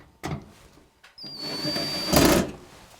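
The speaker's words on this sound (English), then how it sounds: "then just tighten down the screws" A power screwdriver tightens screws while an exhaust fan is mounted, with a steady high whine for about a second and a louder burst of grinding as it seats, preceded by short knocks.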